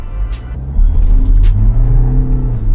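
A car with a two-pedal automatic gearbox in sport mode launches hard from a standstill, the engine revving loud and close with wheelspin in first gear as the pitch climbs.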